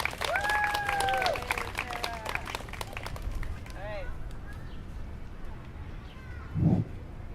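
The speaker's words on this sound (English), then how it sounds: "please, round of applause for Sarah and all that she's done" Audience applause at an outdoor swimming dedication and poetry slam, a broad wash of clapping from the crowd that holds steady and gradually thins out, with a voice speaking over the start.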